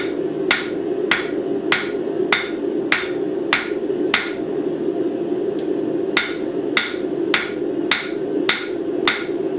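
Hammer blows ring on a steel anvil while a paperclip is hand-forged and tapered, about fifteen sharp metallic strikes in a steady, close rhythm, each loud and bright over a low background hum.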